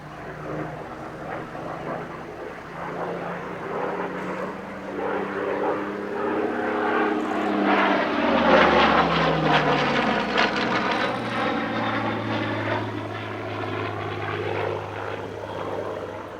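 A BBMF Spitfire, a genuine Battle of Britain veteran, flies past at the Midlands Air Festival airshow. Its propeller engine drone swells to a loud peak mid-pass, the pitch falling as it passes, then fades away.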